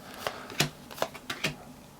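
Threat cards for the Veilwraith card game being shuffled, a run of crisp riffling bursts and card snaps at irregular intervals, close and fairly quiet, with no talking.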